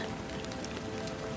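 Soft, steady rain falls in a continuous gentle patter, a brief quiet wash of drops with no voices over it.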